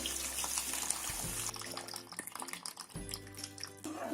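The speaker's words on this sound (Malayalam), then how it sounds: "ആവശ്യത്തിനുള്ള പുളി വെള്ളം ചേർക്കുന്നുണ്ട്." Tamarind water pours and splashes into a pan in short bursts, with quieter gurgling between pours, fairly soft and close.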